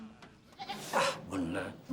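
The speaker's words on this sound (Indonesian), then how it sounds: "nenteng kambing" A goat bleats in a village setting, several short nasal cries close by, mixed with voices of people talking around it.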